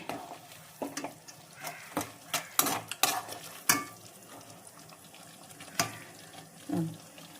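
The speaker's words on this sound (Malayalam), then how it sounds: "വിനാഗിരി ഒഴിച്ചു ഇളക്കി ഒന്ന് തിളക്കട്ടെ" Vinegar goes into a pan for Kerala fish pickle and is stirred as it heats. Scattered clacks and scrapes of a spoon come first, over a faint simmering sizzle, and a brief pour-like splash follows near the end.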